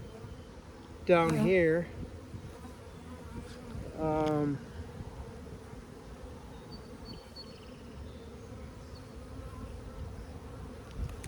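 Honeybees buzz steadily around a hive on a cool early-summer day, a continuous low drone running throughout, while a person speaks a couple of short phrases close by.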